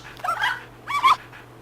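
Two short, high-pitched yips and whimpers from a cute puppy in Nintendogs, close and clear, with no talk over them.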